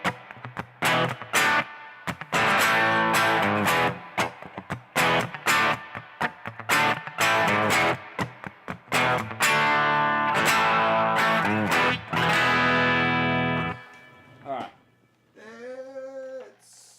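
Heavily distorted electric guitar chords played loud and close, with choppy rhythmic stabs and sustained crunchy notes, ending in a brief bent note.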